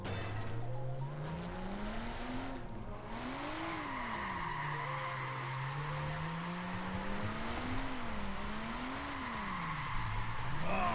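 A car drifting and spinning out in Forza Horizon 4, played with a wheel: a continuous engine note rising and falling as the revs swing, with tire skid noise throughout, steady and fairly loud, with no talk.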